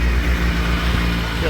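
Suzuki Hayabusa motorcycle idling inside a garage, a close, steady low engine rumble with faint irregular pulses throughout.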